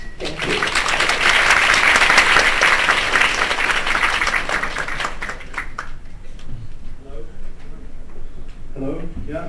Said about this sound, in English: So would you please give him a big applause?